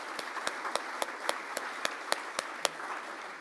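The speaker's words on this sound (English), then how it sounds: "let's all give them a big round of applause." Scattered applause at a Rotary Club meeting, a small group clapping in a loose, steady rhythm of distinct claps over a quiet room tone, fading out after a few seconds.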